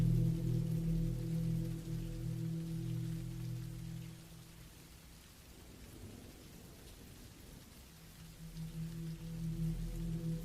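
Steady rain pours in a dense, soft wash, with a low rumbling drone running beneath it throughout.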